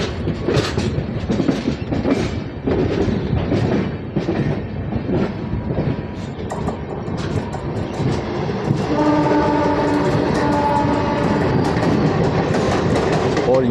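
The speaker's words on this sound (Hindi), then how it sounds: "तो उसके लिए पीछे 2 लोकोमोटिव और जोड़े गए" Indian passenger train on the Indore–Pune route climbing the Khandala ghat with two extra locomotives added at the rear, a loud steady rumble of wheels on rail with rhythmic clatter and a sustained horn building in the second half.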